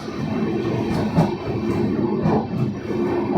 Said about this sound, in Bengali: 7 নম্বর প্ল্যাটফর্মে আমাদের ট্রেন ঢুকছে, অমৃত ভারত এক্সপ্রেস।